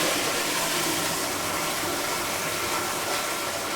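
Water gushes steadily through plumbing, a dense continuous rushing like a running tap or flush, loud and close with no pauses and no talk over it.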